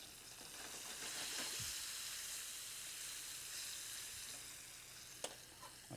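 Meat and eggs fry in a pan with a soft, continuous hiss and sizzle, quiet and close, with a faint clink near the end.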